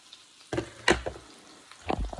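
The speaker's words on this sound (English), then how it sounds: "you can see that they're starting to cook and brown up" Onions sautéing in a pan as they brown and caramelize, a couple of brief sizzling bursts with stirring scrapes, close and moderately loud, with quiet gaps between.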